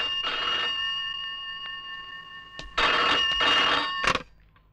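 An old-style telephone bell rings in short bursts, with a faint tone between rings, from a scene in a Hindi film.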